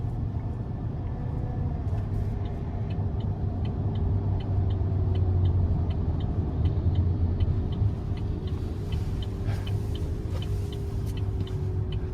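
Inside the cab of a 2024 GMC Sierra 2500HD regular cab long bed with the 6.6-liter gas engine, a steady low engine drone and road rumble persist while climbing an off ramp, with faint rhythmic ticking over the top.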